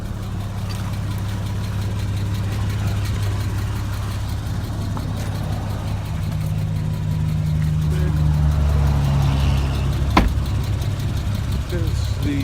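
A Porsche 911 Carrera S Cabriolet idles nearby with a steady, low, throbbing engine burble that holds evenly, rising slightly toward the end with a brief knock near ten seconds.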